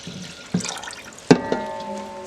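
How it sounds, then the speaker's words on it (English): Water is poured into a pot of washed rice while cooking Liberian dry rice, heard as a few short splashes and sloshes, close and fairly loud, with a brief pause between pours. "I'm going to put 10 cups of water"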